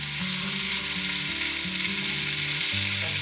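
Celery, carrots and onions go into a hot pot for chicken soup and sizzle loudly and steadily, with a constant frying hiss over a low musical hum throughout.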